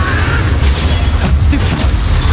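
Casting the Incendio fire spell in Hogwarts Legacy produces a loud, dense whooshing burst of flame with a low rumbling boom underneath, filling the whole short moment.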